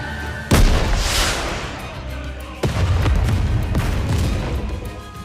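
In the video game NIKKE, a rocket launcher fires a shell and it explodes over a snowfield: a loud boom, a rushing blast, then a second heavy burst with long rumbling decay.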